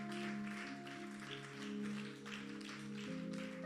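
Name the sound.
church congregation applause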